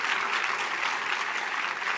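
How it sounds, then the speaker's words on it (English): Audience applause at a tribute event, a steady wash of many hands clapping, full and sustained, with no voices over it. "a mighty, mighty hand clap tonight"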